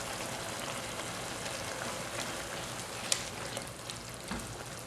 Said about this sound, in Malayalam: അണ്ടിപ്പരിപ്പ് അരച്ചത് ഇതിനകത്തേക്ക് നന്നായിട്ട് മിക്സ് ചെയ്യുക